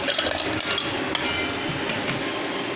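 Water is poured over ice cubes into a blender jug in a home kitchen, a close, gurgling splash with a few clinking knocks of ice against the container.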